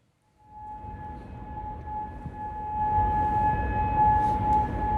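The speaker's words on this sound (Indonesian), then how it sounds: "Sirine berbunyi di kota Kuwait menyusul serangan drone dan rudal Iran" A steady, wailing civil-defense air raid siren sounds at a distance in Kuwait City during an Iranian drone and missile attack, slowly growing louder over a low background rumble.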